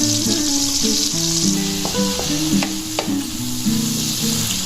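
Turmeric and Kashmiri chili powder sizzle steadily in hot oil in a pan for a vegetarian okra dish, a loud continuous frying hiss with light stirring clinks over it, no voices.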